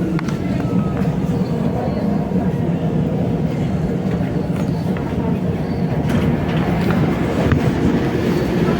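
A metro train rumbling steadily close by in an MRT station, with a continuous low roar and faint rail clatter lasting several seconds, some voices underneath.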